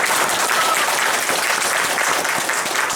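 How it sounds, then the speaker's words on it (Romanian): Audience applause at a children's Christmas matinee after folk dances, a loud, steady burst of clapping from a full hall, even and sustained with no talk over it. "Încă o dată aplauze."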